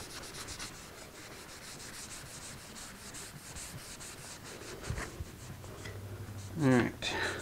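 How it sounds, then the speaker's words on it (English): Acoustic guitar wood for a Martin 00 style build is scrubbed by hand, giving repeated rhythmic rubbing strokes close to the mic, with a louder scrape near the end. "let's scrub this down real nice"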